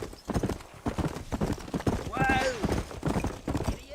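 Horse hooves clip-clopping in a steady rhythm in Red Dead Redemption on Nintendo Switch, with a brief whinny partway through and someone talking over the gait.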